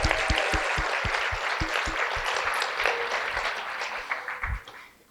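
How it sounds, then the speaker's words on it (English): Commencement ceremony audience at the University of Michigan applauding, a dense sustained wash of clapping filling a large room with a few louder nearby claps, tapering off at the end. "can we give the loudest round of applause to the parents, siblings, families, friends, and loved ones who have supported you"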